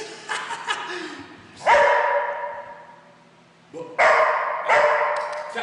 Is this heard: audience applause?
no